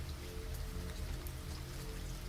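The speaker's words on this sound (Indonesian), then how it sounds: "Hujan rintik-rintik setia menemaniku" Light drizzling rain for a horror audio drama set in a city at night, a steady soft patter of drops filling the space evenly without any voices.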